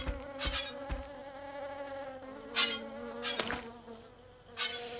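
Wasps buzz in the video game Spelunky, a steady insect drone running throughout with several louder swells as they come close, with no talking.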